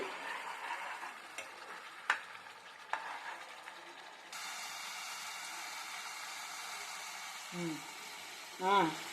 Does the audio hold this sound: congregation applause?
no